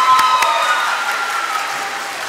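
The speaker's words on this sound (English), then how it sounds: "give them a round of applause" Steady applause from a crowd at a school awards ceremony, dense clapping holding at a fairly even level throughout.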